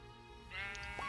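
A sheep in the Minecraft video game gives a single short, clear bleat over a steady background music tone.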